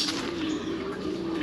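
Racing pigeons cooing in a loft, a soft, steady low coo that continues throughout at close range, with faint background noise.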